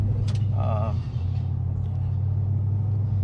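Steady low engine rumble from a moving Mercury Grand Marquis with a 4R70 transmission, heard from inside the car with continuous road noise and a brief faint whistle-like tone near the start.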